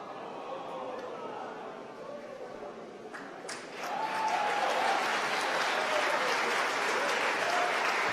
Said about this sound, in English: You can hear from the applause.